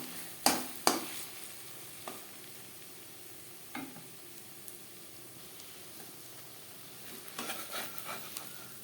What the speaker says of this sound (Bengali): এইভাবে একটু নাড়াচাড়া করে দেব